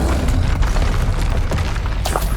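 A Confringo fire spell explodes in the video game Hogwarts Legacy, a loud, sustained booming blast that fills the whole stretch with dense rumbling and crackle.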